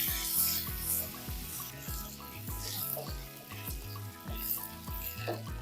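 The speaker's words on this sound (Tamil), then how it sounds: "ஒரு கால் செட்டிகை அளவுக்கு மஞ்சள் தூள் சேர்த்துக்குவோம் சேர்த்துட்டு நல்லா வதக்கிக்கலாம்" Ingredients sautéing in a pan with salt and turmeric while cooking appalam kuzhambu, a moderate sizzle with rhythmic scraping and stirring strokes of a ladle, fairly close and steady.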